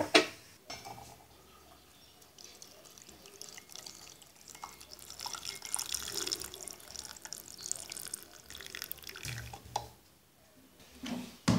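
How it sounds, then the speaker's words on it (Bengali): Masala milk tea being poured through a strainer, with soft dripping and trickling of liquid, a few louder splashes, and faint handling noises against a quiet kitchen background. "ভিওয়ার একটি ছাঁকনি দিয়ে ছেঁকে নিব"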